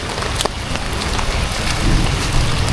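Heavy rain pours down steadily outdoors, a dense, loud wash of drops drumming on surfaces with no pause across the short stretch.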